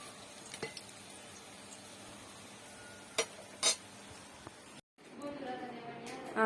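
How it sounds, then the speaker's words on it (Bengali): Fritters (bora) frying in a pan for a village breakfast, a steady low sizzle throughout with a few sharp clinks of utensils, briefly cut off and then returning louder and busier near the end. "বড়া ভাজা"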